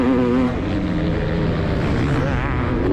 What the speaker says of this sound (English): Just tickling the gas, just tickling the throttle on that big 500cc two-stroke seems to do the trick.